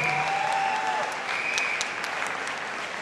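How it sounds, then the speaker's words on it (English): A Manchester audience applauds after a singer's live performance, steady, close clapping from many hands that stays even and slowly eases off. "Let's give him a round of applause."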